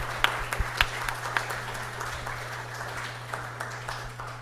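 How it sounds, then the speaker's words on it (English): An audience applauds at an astronomy public lecture with a moderate, steady clatter of clapping and a few sharper close claps early on, over a constant low electrical hum. "So a huge round of applause to everyone."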